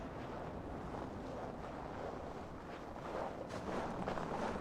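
Wind sweeps through an Assassin's Creed Valhalla scene as a low, soft, gusty rush that swells slightly near the end, with no voices.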